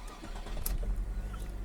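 An engine cranks and catches after a battery jump from a pickup truck, settling into a low rumbling idle, heard close with no talk over it.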